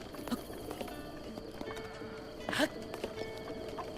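A horse in Zelda: Breath of the Wild, hooves clip-clopping steadily with a brief neigh midway, under quiet game ambience.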